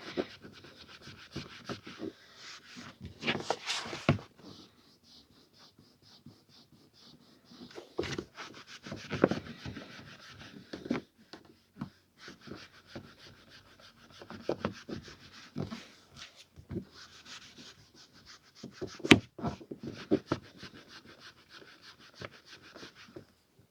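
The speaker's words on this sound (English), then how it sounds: "so we're halfway through the polishing now" A vintage Pan Major pipe is polished by hand, with soft irregular rubbing and scratching strokes in bursts and short pauses, close and quiet, with no talking.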